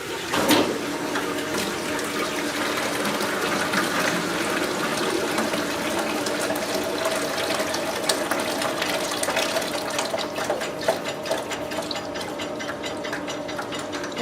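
A space-man ice cream machine running on its wash cycle, flushing sanitizer through, gives a steady mechanical hum with running-liquid hiss and occasional small clicks, continuous and fairly close for the whole stretch.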